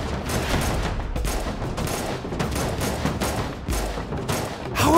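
Rapid bursts of gunfire in the video game Unturned, set during a prison roleplay, crackle loudly and almost continuously in dense volleys, with a few heavier booming shots.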